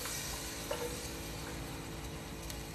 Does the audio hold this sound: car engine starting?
no